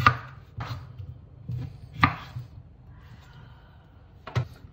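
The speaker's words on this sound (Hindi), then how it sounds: "टमाटो उसको थोड़ा चॉप कर लेते हैं" A knife chops tomatoes on a cutting board for puree, a few sharp, irregular knocks spaced about a second apart, close and fairly loud, with soft board sounds between them.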